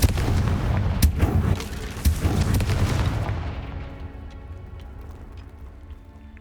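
Explosive combat spells Bombarda and Confringo in the video game Hogwarts Legacy: a string of heavy booming blasts and sharp cracks in quick succession, loud and close, fading into a lingering rumble.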